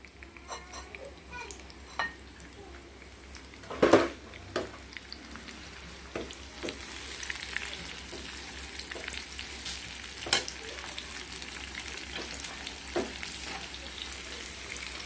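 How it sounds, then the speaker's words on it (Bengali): Onions and green chilies frying in oil left over from frying pomfret, a steady close sizzle with occasional scraping stirs and utensil knocks against the pan. "পেঁয়াজটা ভেজে নিব।"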